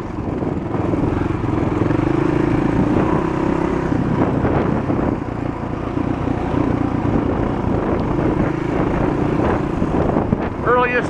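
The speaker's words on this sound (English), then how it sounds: "Earliest ever I got to ride a motorcycle in the forest." A Honda XL 250 motorcycle rides through a forest in early March, its engine droning steadily and close throughout, mixed with heavy wind buffeting on the microphone.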